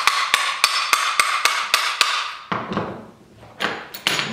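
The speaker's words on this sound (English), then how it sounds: "tap it with a screwdriver just to get it started and going" A screwdriver taps an Airmar P66/TM165 plastic transducer mount, about eight sharp, evenly spaced knocks in quick rhythm, then a brief pause and a couple more hits, close and clear.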